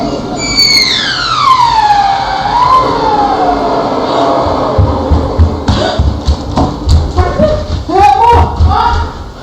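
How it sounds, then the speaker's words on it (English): Loud, high-pitched fire alarm wailing as a home kitchen burns, its whooping tone sweeping downward and then pulsing in short chirps over background noise. "the fire alarm finally starts sounding off"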